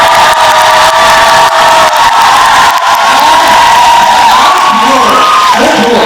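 An audience at a book launch talk cheers and whoops loudly and continuously, a dense roar of voices with shouts rising over it, heard close and filling the room.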